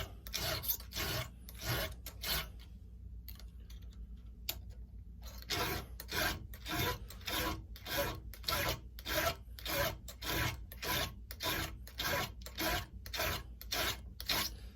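Steady rhythmic rasping of a hand file on a chainsaw chain, using about half the file's length, quick repeated strokes close up, with a brief pause before the strokes resume evenly.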